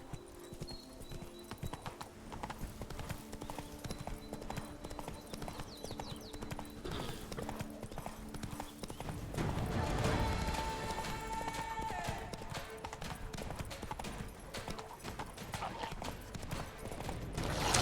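Horse Roach galloping in The Witcher 3 on Death March difficulty, continuous rhythmic hoofbeats throughout, growing louder midway, with a faint whinny and a brief voice over game ambience.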